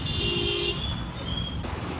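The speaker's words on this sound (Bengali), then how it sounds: "পিছনে হর্ন দেওয়া শুরু হয়ে গেছে" A car horn toots behind a motorbike in steady road traffic, a sustained high honk lasting under a second, followed by fainter higher-pitched tones amid engine rumble.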